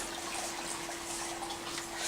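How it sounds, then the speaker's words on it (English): An aquarium filter runs in a new turtle tank, giving a faint, steady wash of flowing, bubbling water with a low hum underneath and no voices. "one little filter for the flow in the water, so there's always a lot of oxygen in the water"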